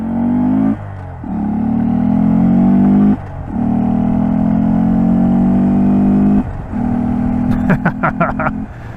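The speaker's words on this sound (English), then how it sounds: "Going full throttle in the GROM is just so dumb and satisfying at the same time." A Honda Grom mini motorcycle engine screams at full throttle, loud and close, in three long sustained pulls broken by brief dips at gear shifts, ending with choppy bursts as the throttle blips.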